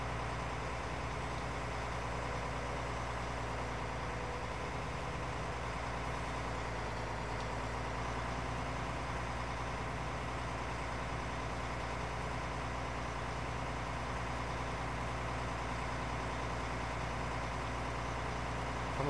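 A farm tractor engine idles and runs steadily at close range, a continuous low rumble with even harmonic drone that holds for the whole span without talk.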